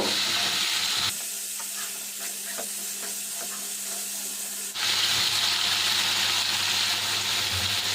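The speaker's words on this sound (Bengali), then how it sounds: "করলাগুলো আমি একটু ভাজা ভাজা করে নেব" Boiled bitter gourd frying in a pan with turmeric and salt, a loud continuous sizzle with stirring clicks, briefly dipping before the hissing swells back up fuller.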